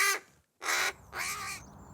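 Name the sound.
crow calling, rescued from a chimney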